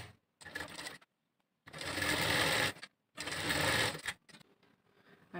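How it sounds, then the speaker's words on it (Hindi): An electric sewing machine stitches a folded fabric strip for a blouse in three loud, steady bursts of about one second each, separated by short pauses. "पहले तो हम इसको ऐसे फोल्ड करके एक सिलाई लगाएंगे।"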